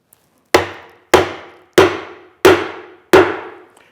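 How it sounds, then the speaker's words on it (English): Five evenly spaced, sharp hammer taps ring out as the legs of a sack-back Windsor chair undercarriage are driven into place, each a crisp knock with a short decay, close and alone. "And now we'll tap it into place."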